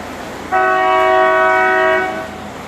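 A canal boat's horn sounded beneath a railway bridge, one sustained tonal blast of about a second and a half, loud and close, echoing slightly under the span.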